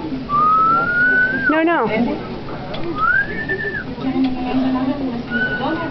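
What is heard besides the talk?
child trying to whistle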